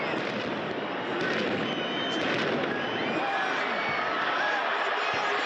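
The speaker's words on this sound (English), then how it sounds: "these are also called salute cannons" Black-powder salute cannons on a rack fire in rapid succession, a dense, continuous crackle and boom blending into a roar of distant blasts, with faint voices beneath.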